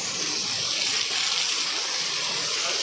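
Rainwater gushes steadily and loudly through a street in Chandni Chowk, Delhi, close by, a constant splashing rush that never lets up.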